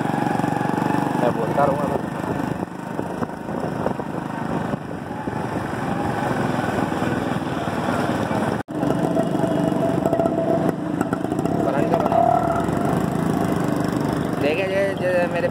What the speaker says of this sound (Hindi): बाइक पर चलें इमरान, बाइक स्टार्ट कर लें जल्दी से।